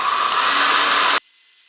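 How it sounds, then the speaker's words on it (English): A handheld hairdryer blows a loud, steady, breathy roar while drying paint on black fabric, then cuts off abruptly, leaving only faint background hiss. "And then I'm gonna quickly follow up with a hairdryer."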